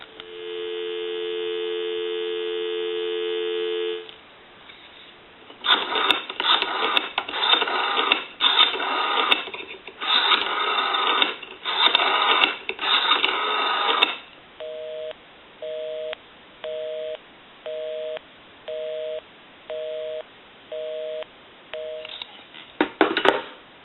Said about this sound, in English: We can also call my number, and it'll be busy. Give you some dial tone.